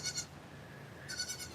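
A goat in a barnyard bleats in two short, nasal, quavering bursts near the microphone, separated by a brief lull with quiet outdoor background.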